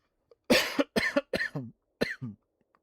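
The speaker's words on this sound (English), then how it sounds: "Chronic cough." A short burst of close, loud coughing, four or five harsh coughs in quick succession followed by two more after a brief pause.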